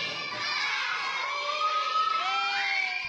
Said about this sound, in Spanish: Frente a sus compañeros de clase, la algarabía no era para menos. Lo aplauden, gritan, le echan ganas.